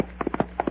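Horse hooves clip-clop in a quick run of sharp, close knocks, about six beats in under a second.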